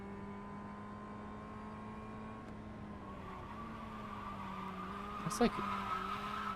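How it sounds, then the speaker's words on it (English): A race car in a video game drifts through a corner at Martinsville Speedway, its engine droning steadily while a tire squeals near the end, with someone talking over it. "he just drifted the whole entire corner"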